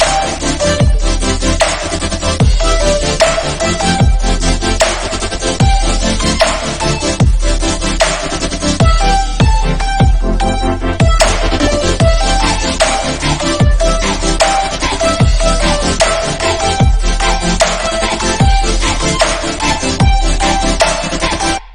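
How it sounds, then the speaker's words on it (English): A loud electronic dance drop pounds with a steady four-on-the-floor kick and bright layered synths, driving continuously and cutting off abruptly at the end. "But then my most favorite part is the drop, which sounds like this."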